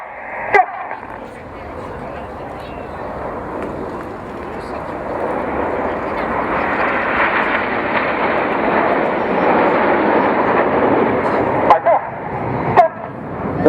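Royal Air Force aircraft in formation, including a Typhoon fighter, flying past at an air display, a broad rushing jet roar that slowly swells louder and stays steady, with brief sharp knocks near the end.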